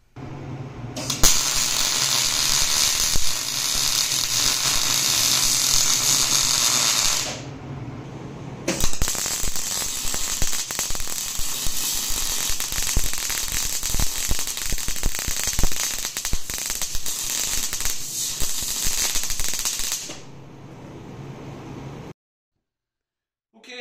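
Tack welding on a combat robot weapon bar: bursts of loud crackling, sputtering arc noise, a short pause, then a longer uneven crackle before cutting off to silence.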